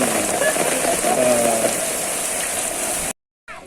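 Steady rain patters densely on a surface, with faint voices underneath, then cuts off abruptly near the end.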